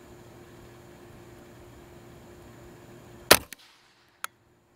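A single sharp, loud rifle shot fired through an $18 Amazon scope at an outdoor range, a sudden crack over a steady low hum, followed a second later by a faint distant click.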